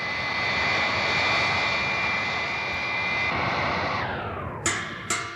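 A sustained droning whine of a robot plane's engine as it slows to hover, heard as a vintage children's vinyl record sound effect, steady and loud, then shifting pitch with two brief bursts near the end.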